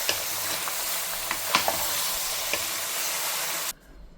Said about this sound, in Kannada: ಎಣ್ಣೆ ಒಳಗಡೆ ಚೆನ್ನಾಗಿ ಫ್ರೈ ಮಾಡ್ಕೊಬೇಕು.